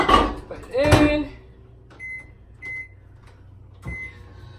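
A microwave oven heating white chocolate for popcorn hums low, with a door clunk and a few short electronic beeps spaced apart, while a person talks briefly at the start.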